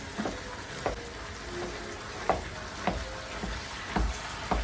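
Ground beef taco meat frying in a pan, a steady sizzle broken by scraping, chopping taps as the meat is broken up while it cooks.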